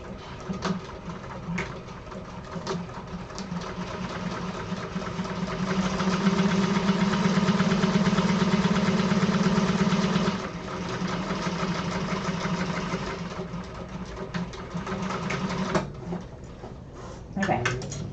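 A sewing machine stitches an apothecary bag with a steady mechanical whirr that swells louder for several seconds, then eases and runs on more quietly with brief pauses, under occasional talk.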